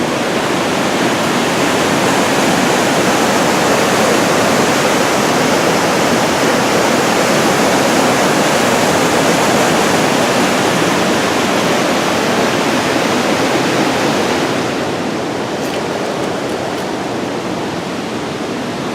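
A river rushes steadily beside an easy trail in the Adirondacks, a dense, constant roar of flowing water that holds loud and unbroken, easing slightly toward the end, with no voices.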